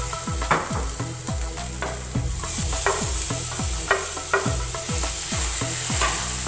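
Tomatoes being stirred and fried in a pan for vegetable biryani, with a loud steady sizzle and repeated rhythmic scrapes of a spoon around the pan, no talking.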